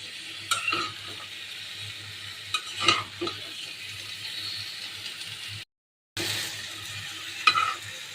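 Curry being sautéed and stirred in a pan, with a steady low sizzle of frying oil and occasional scraping stirs and spoon clinks against the pan, broken by a brief gap of silence.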